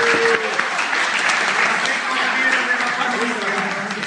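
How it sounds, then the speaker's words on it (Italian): An audience claps at an evening event in Morro d'Oro, Italy, producing steady, moderately loud applause throughout, with voices murmuring beneath it. "Ciriolo Lucio, un applauso."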